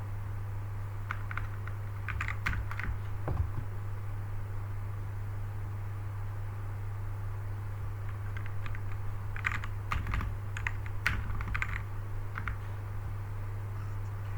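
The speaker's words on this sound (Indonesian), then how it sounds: "Kita bisa ketikkan google.com saja." Keystrokes on a computer keyboard come in short, irregular bursts during a computer networking walkthrough, entering a web address and network commands. The clicks are fairly close and crisp over a steady electrical hum, with no talking.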